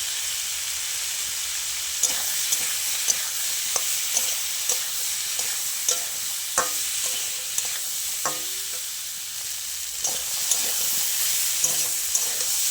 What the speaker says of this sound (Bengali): ভালো করে কষিয়ে নেব সবজিটা।